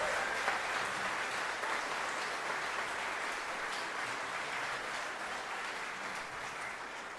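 A steady wash of audience applause for the musicians at a concert intermission, fairly soft and distant, continuing evenly without talk.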